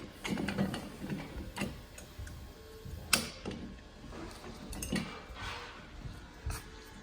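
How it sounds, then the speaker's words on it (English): A released jack pin on a 2018 XLR Nitro 29DK5 toy hauler lets the jack lower, producing scattered faint metallic clicks, clunks and ratcheting knocks with one sharper clank midway, all fairly quiet. "I'll just release this pin, let it come down until that thing shows it's level. Pin it in place."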